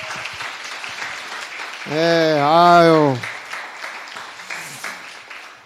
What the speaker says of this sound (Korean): 박수 한번 다시.